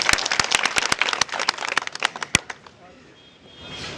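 Scattered hand claps crack sharply from an audience at a Navjot Sidhu political rally in Chhindwara, a quick uneven run of a dozen or so claps that thins out and fades into quiet crowd murmur.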